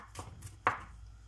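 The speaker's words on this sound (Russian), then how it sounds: "Одну луковицу весом 150 грамм мелко нарежу." A knife chops an onion finely on a board, giving a few separate soft taps and one sharper cut, close and fairly quiet.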